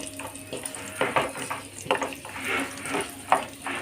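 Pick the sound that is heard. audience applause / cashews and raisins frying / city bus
cashews and raisins frying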